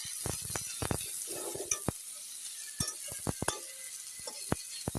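Potatoes and onions frying in a pan while a spoon stirs them, with sharp clinks and scrapes of utensil on metal in irregular bursts over a soft background sizzle.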